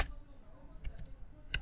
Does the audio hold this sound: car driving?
no